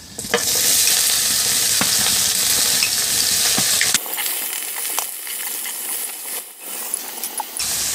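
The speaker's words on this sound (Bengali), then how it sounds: "এখন তার মধ্যে দিয়ে দিচ্ছি আমি পেঁয়াজ কুচি।" Chopped onions hit hot oil with bay leaves, setting off a loud, close sizzle that crackles strongly, then settles into a lower, steadier frying hiss with scattered pops and spatula scrapes.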